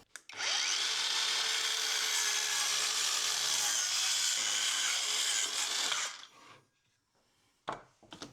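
A Hercules 4.5-inch cordless circular saw cuts through a 3/4-inch pine board with a loud, high whining buzz for about six seconds, then winds down, followed by two brief blips of the motor.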